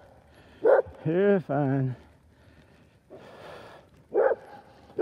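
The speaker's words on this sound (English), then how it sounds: "I'm surprised I hadn't seen any dogs so far. And here they are." A couple of dogs on a walk give a few sharp barks and snorts nearby, separated by pauses, while a person speaks soothingly to them.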